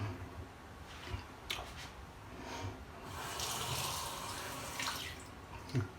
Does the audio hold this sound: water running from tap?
yes